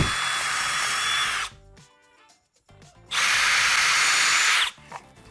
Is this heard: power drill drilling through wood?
yes